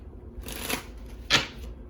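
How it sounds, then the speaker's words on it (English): Tarot cards riffled and shuffled in two quick bursts, the second sharper and louder, close to the microphone with no talking. "let me do a quick shuffle."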